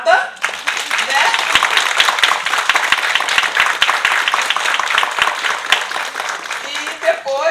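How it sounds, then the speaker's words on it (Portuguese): An audience at an academic symposium applauds together, a dense, sustained wash of clapping that runs loud and steady for several seconds before tapering, with a voice briefly heard at the end. "uma salva de palmas para a ABA"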